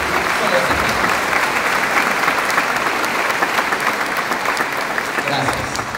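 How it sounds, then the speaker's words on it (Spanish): An audience at a Patzún teachers' union event applauds Elizabeth Guerra, the Ministry of Education representative, with sustained, even clapping from many people throughout, a voice briefly audible over it. "Aplausos"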